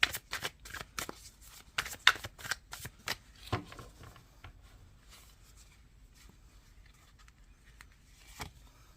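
Tarot cards shuffled by hand at a reading table, a quick run of crisp riffling bursts that thins out into sparse soft flicks and one final riffle, close and fairly quiet with no talk.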